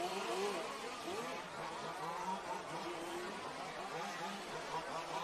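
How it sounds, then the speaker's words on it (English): Large-scale off-road RC cars race around a track at a European championship final, their small engines buzzing and revving continuously in the distance, faint and overlapping. "Next car into the bowl is Jason."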